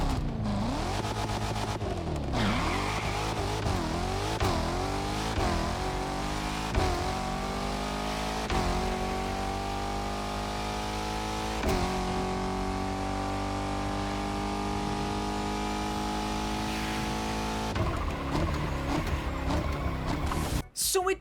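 Continuous video-game car engine drone in The Crew Motorfest, with a high-time exhaust tone, rising and shifting harmonic tones as it revs up through gears, loud and sustained for the whole stretch.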